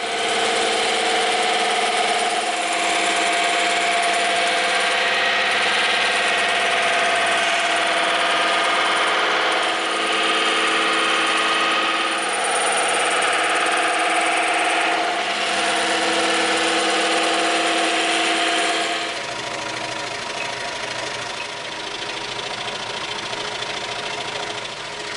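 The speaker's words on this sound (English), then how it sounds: "we're going to go over to the bandsaw and the scroll saw" Bandsaw and scroll saw cutting EVA foam for a sledgehammer prop, a steady loud mechanical whir with a rapid buzzing texture that runs for about twenty seconds, then eases into a quieter hum.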